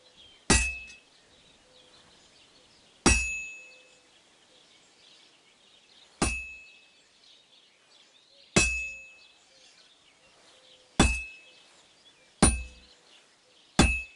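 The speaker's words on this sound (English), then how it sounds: "Now take the hammer and try hitting it a few times." Hammer blows ring out on a sword laid across an anvil at a forge in Kingdom Come: Deliverance II, seven sharp metallic clangs spaced a few seconds apart, each decaying quickly over a faint background, with no talking.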